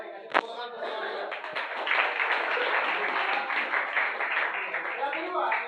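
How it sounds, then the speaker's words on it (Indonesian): Applause from an audience at a teacher performance assessment session at UIN Syarif Hidayatullah, a steady, dense patter of many hands lasting several seconds, starting with a sharp clap and mixed with voices. "kasih tepuk tangan untuk Semalika."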